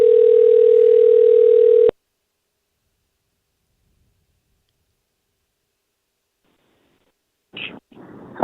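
A steady telephone dial tone hums on a call-in line for about two seconds, then cuts off into silence before faint clicks of a connection.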